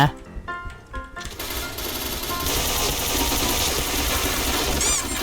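Rapid automatic gunfire from a gun in the shooter game Point Blank: a few sparse shots, then a dense, loud, sustained burst of fire that continues to the end amid other game noise.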